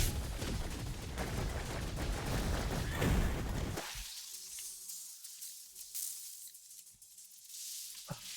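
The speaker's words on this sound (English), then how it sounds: "they shoot out bullets when they die" Dense burst of video game gunfire as dying enemies spray out bullets, loud and crackling for several seconds, then cutting abruptly to a quieter stretch with faint scattered pops.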